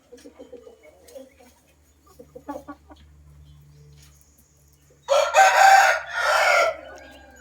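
A rooster crows loudly and close by for about two seconds near the end, preceded by soft clucks and low background noise with no talking.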